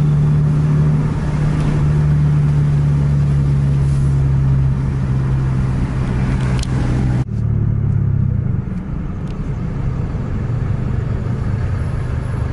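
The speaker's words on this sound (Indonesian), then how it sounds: "Bis tercepat ini yang masuk ke Langsa dari Medan." An ALS intercity bus on the Medan to Langsa route passes close by with a loud, steady engine rumble and road roar that cuts off abruptly partway through, leaving a lower lingering hum.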